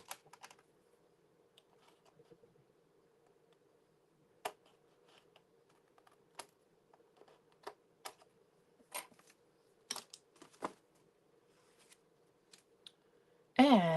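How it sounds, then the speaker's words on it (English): Scissors trim excess paper from a floral scrapbook layout, giving a string of sharp, separate snips spread unevenly over a quiet background with a low steady hum. "let me just trim off the excess here."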